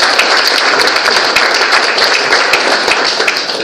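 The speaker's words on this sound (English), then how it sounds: "Give a good clap to him." A business-opportunity meeting audience in Kuala Lumpur claps for a guest from Singapore, dense steady applause that stays loud and even throughout, close and continuous with no talk.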